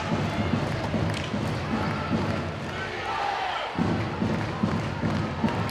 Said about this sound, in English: Devils goal has woken the Steelers crowd up a little bit